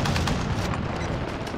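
A PKM light machine gun fires from the hip in the video game Modern Warfare as one dense, continuous burst of rapid, loud shots.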